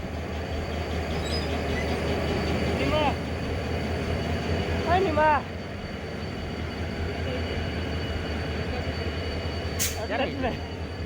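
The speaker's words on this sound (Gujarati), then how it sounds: "મિત્રો તમે જોઈ શકો છો પોરબંદરની ટ્રેન" Rumbling noise of a Porbandar train fills the scene steadily, with squealing metallic tones and a brief hiss, while people talk nearby.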